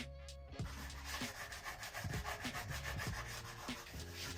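Steady back-and-forth sanding on a painted wheel hub where the brake disc seats, with repeated rhythmic rubbing strokes at close range and no talking.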